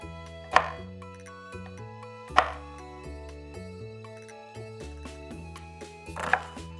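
A knife chops food on a cutting board: three sparse, sharp strikes stand out over steady background music, with no talking.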